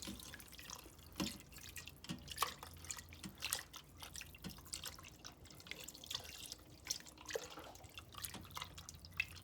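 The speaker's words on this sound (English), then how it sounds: "I'm going to slowly pour this in and mix as I go" Soft liquid trickling and dripping with faint splashes and clinks, tempered milk poured slowly into Thai coconut chicken soup while stirred close by, no voices.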